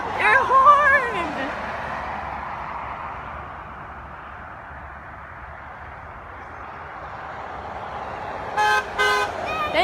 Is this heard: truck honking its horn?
yes